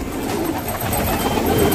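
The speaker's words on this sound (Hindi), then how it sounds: "ये देखें डर डर के उड़ रहे हैं। ये एक कबूतर आ गया," Pigeons gather at a feeding spot, soft cooing and faint wing flutters against a steady, fairly loud outdoor background hum, with no talking.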